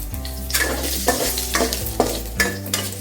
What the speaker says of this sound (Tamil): இந்த மாதிரி விளக்கெண்ணெய் விட்டு வறுத்துக்கோங்க.